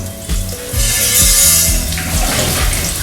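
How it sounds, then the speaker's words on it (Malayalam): Water pours steadily and loudly into a cooking pot of dum chicken biryani with cardamom, cloves, cinnamon and carrot, a close, continuous rushing splash. "നമ്മൾ ആവശ്യത്തിന് വെള്ളം ഒഴിക്കണം."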